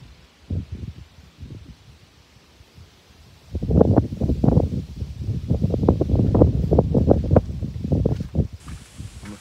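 Gusty outdoor wind buffets the microphone, starting soft and sparse, then swelling into loud, continuous low rumbling bursts with rustling, close and unbroken through the second half, with no talking.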